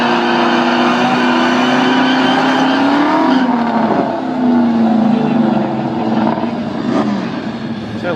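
A supercharged Ford Mustang GT and a 2001 Mustang Bullitt racing, V8 engines roaring loud and close as they rev up through gears, with wind rush and rising pitch sweeps throughout.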